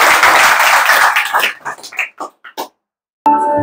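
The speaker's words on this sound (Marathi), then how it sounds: "त्यासाठी एकदा जोरदार टाळ्या झाल्या पाहिजे." Audience applause at a village gathering where a guest speaker addresses villagers on health and farming: a loud burst of dense clapping that quickly thins into a few scattered claps, then falls silent before a different sound cuts in.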